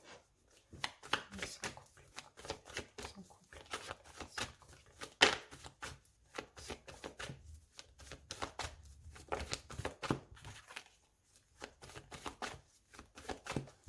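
Playing cards being cut and shuffled at a table during a tarot-style reading, a dense run of crisp riffling flicks and soft slaps in quick bursts with short pauses, close and fairly loud, with no talk.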